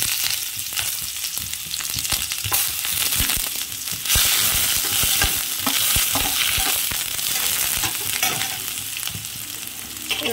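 Onions frying in hot oil with mustard seeds for a tomato gojju, a steady loud sizzle broken by repeated scraping and stirring strokes of a spatula in the pan throughout.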